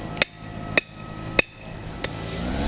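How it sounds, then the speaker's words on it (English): Old concrete around a mailbox post is chipped away with a paddle bit, four sharp, evenly spaced metallic strikes ringing out close by over a low steady hum. "now we're chipping away to dig out that area."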